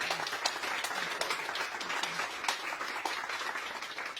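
An audience claps in steady, dense applause for gratitude toward three guest speakers, a sustained even patter of many hands throughout with no talking.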